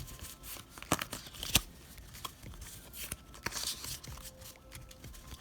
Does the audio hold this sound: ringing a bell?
no